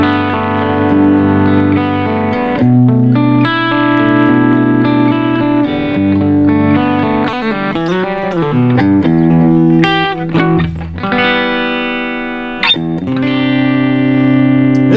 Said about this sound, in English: let's dive in with some clean tones